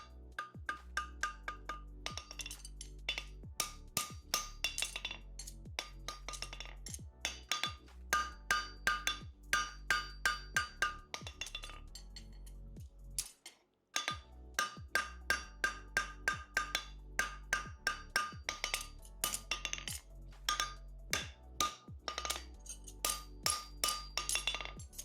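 Rapid, sharp metallic hammer strikes on a horseshoe being shaped on an anvil, ringing clinks in steady bursts with one brief pause midway, close and fairly loud.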